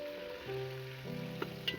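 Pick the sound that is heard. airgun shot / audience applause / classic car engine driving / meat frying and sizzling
meat frying and sizzling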